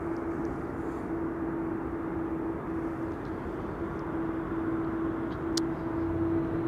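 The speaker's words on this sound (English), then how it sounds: "Singapore Airlines cargo flight 7343 arriving from Nairobi, Kenya." Singapore Airlines Boeing 747 cargo jet, 22 years old, arriving at Amsterdam Schiphol after a flight from Nairobi, heard as a steady broadband engine roar with a sustained tone, continuous and fairly loud throughout.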